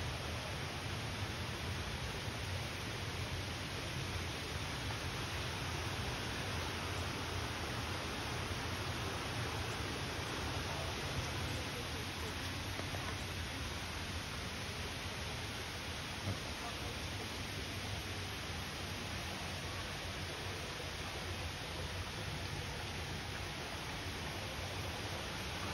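A waterfall roars in a constant, dense wash of noise, unbroken and even in level from start to finish, with no distinct voices standing out.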